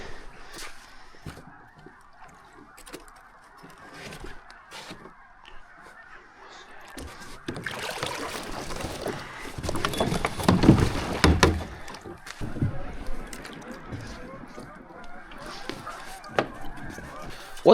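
Geese honk at dawn on the water during a kayak duck hunt, a cluster of loud calls building in the middle, with quieter scattered honks and paddle splashes before and after.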